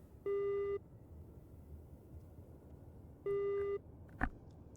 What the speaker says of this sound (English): So my radar warning receiver's beeping.